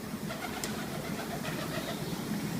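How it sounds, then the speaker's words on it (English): A resident pigeon coos inside the old Bodmin Jail in Cornwall, a soft low burble repeating in a steady rhythm against a constant echoing background hum. "Resident pigeon."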